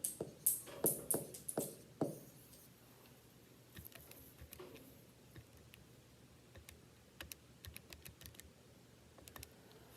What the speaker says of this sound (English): when you type that in your calculator, you should get